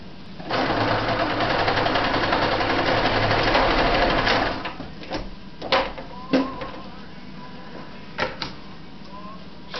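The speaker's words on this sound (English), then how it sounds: "So now I'm sewing the other interfacings together." Sewing machine stitching fabric interfacings together, a loud steady whir running for about four seconds, then a few short separate bursts and clicks as the stitching stops and starts.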